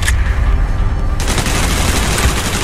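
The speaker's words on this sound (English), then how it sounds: "Gunfire's drawing attention." Loud bursts of automatic gunfire crackle continuously, dense and close, in the video game Call of Duty: Black Ops, with a sharp shift to heavier firing partway through; no voices.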